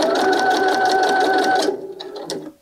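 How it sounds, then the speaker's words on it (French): A sewing machine stitches a Gatsby cap seam in a fast, even whir of needle strokes, close and loud, then stops abruptly, followed by a few small handling clicks. "Alors moi, ma machine passe les épingles."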